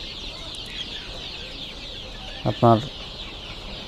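Deshi laying hens on a farm give a couple of short, close clucks in quick succession, with a brief spoken word at the start and a steady high hiss in the background.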